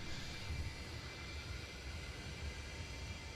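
Steady, low engine drone from an MD-83 airliner taxiing, heard from inside the cabin, faint and continuous with no distinct events or speech.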